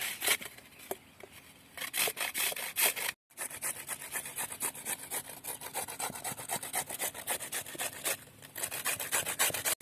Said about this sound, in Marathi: तर आता हे सगळं गाजरं आम्ही किसून घेणार आहोत